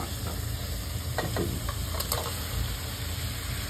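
Hilsa fish frying in a pan, a steady sizzle and hiss with a few scraping stirs of the spatula partway through, close and continuous, with no talk.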